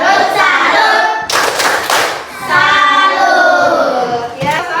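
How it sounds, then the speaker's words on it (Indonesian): A classroom group claps together in a call-and-response cheer, dense loud hand claps running throughout with a short pause near the middle, led by a teacher. "kita kasih tepuk tangan untuk semua teman-temannya"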